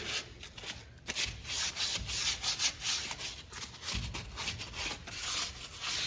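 Sandpaper rubs briskly back and forth on a part from a 1930 American LaFrance fire engine, a close, steady run of rasping strokes in a quick rhythm with no talk.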